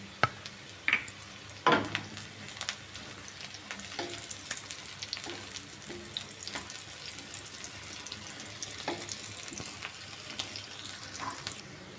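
Finely chopped carrots frying in a pan while making tomato rice, a soft steady sizzle with a few sharp clatters of ingredients dropping in near the start.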